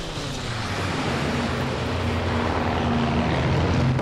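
A World War II era fighter plane makes a strafing pass in the game Call of Duty: WWII. Its propeller engine drones loud and steady throughout, with a constant low hum and a dense roar that swells slightly toward the end.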